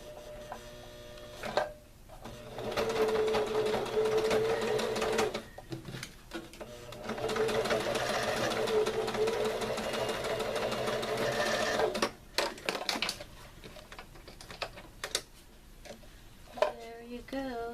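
A sewing machine stitching in two steady runs of several seconds each, with a brief pause between them and faint low hum in the background, followed by small clicks and handling noises as it stops.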